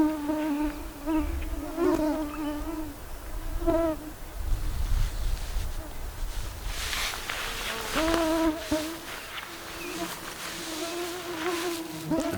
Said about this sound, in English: The mosquitoes are back.